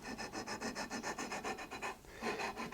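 Steady back-and-forth sanding along a guitar neck's frets, with masking tape protecting the wood, making a dry, close rasping stroke about every fifth of a second in a continuous even rhythm with one brief pause.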